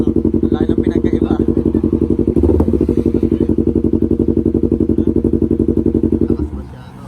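A Yamaha MT-03 motorcycle with an exhaust silencer fitted idles and revs close by, a loud, steady, deep pulsing exhaust throb that holds for several seconds before dropping off near the end.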